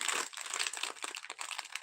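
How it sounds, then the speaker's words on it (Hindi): A plastic Kurkure snack packet crinkles close by in a continuous dense rustle, sharp and bright throughout with no voices. "प्लास्टिक का आवाज आ रहा सैया"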